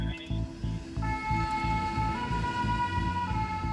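A Paris fire brigade resuscitation ambulance siren wails in a repeating pattern over a rumbling engine, loud and close, with no one speaking.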